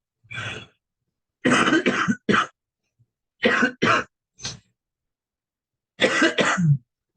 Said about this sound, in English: I had the flu recently and I'm really having trouble getting over the cough